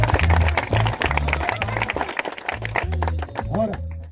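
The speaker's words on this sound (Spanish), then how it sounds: "Un aplauso a todos los participantes." Applause and cheering break out for participants at a bonfire gathering, with scattered clapping mixed under loud talk from a speaker on a microphone.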